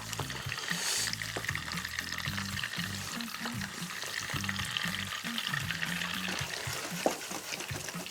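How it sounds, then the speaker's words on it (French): Chocolate orange financier batter is gently mixed in a bowl, a soft, continuous wet stirring that stays faint and even throughout, with one brief click near the end and no voices. "je mélange doucement en attendant le beurre"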